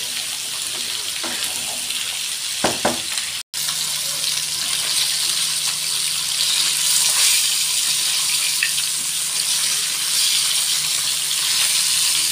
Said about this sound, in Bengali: তেলের উপর বেশ অনেকক্ষণ ভেজে নেব।